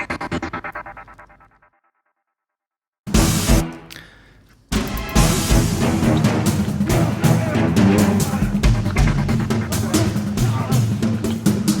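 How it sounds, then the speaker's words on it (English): An Omnisphere synth pad with light tremolo plays a guitar-like chugging 'shugging' pattern that pulses and fades out. After a brief silence, a dense, loud cinematic action-score mix with booming hits takes over. "it's a pad from Omnisphere with a little bit of tremolo."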